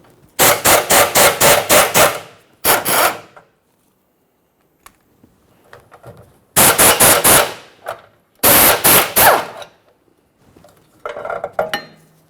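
Metallic clinks and ratchet bursts as two mounting nuts come off a bracket on the shield of a 2008-2012 Jeep Liberty, in short loud clustered bursts separated by silence.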